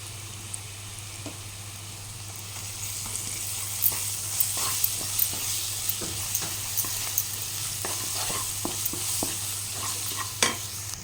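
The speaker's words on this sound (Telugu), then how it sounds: "ఇప్పుడు అల్లం పచ్చి వసనం వేయదాకా వేపుకున్నాం" Ginger sizzles and fries in oil in a pan for curry, stirred with repeated scraping strokes that grow more frequent, over a steady hiss, with no talking.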